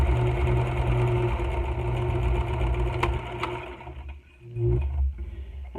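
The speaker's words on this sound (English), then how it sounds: "now I'm going to top stitch down my straps" A twin-needle sewing machine topstitching fabric straps runs in a loud, steady mechanical whir that pauses briefly near the end before resuming, with a couple of small clicks.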